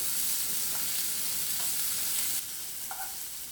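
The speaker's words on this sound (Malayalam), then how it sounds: "ഉള്ളി നന്നായി വഴന്നതിന് ശേഷം കുറച്ച് വേപ്പിലയും മല്ലിയിലയും ഒന്നിടുക. എന്നിട്ട് നന്നായി വഴറ്റുക." Softened onions sizzle in a pan with curry leaves and coriander leaves as they are sautéed for a tuna fish cutlet filling. A close, continuous frying hiss with occasional stirring, and no voices.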